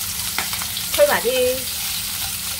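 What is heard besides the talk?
pork ribs frying in a pan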